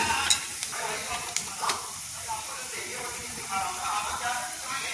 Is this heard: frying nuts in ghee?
yes